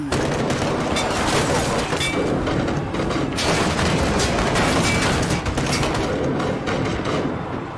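Dense, continuous gunfire from the video game Road 96, a loud barrage of overlapping shots and booms that runs through the whole stretch with no pause, with no one speaking over it.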